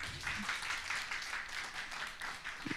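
A family church service audience claps for Daniel's drama troupe, a steady wash of hand claps that holds for about three seconds, with a few low voice sounds underneath.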